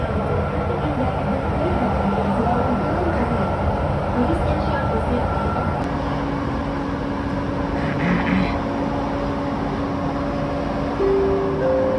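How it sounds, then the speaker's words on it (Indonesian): A high-speed train passing near the LRT Jabodebek line around Bekasi, a steady loud rail rumble with a sustained whine lasting throughout and talk faintly underneath. "ini dia ada kereta cepat"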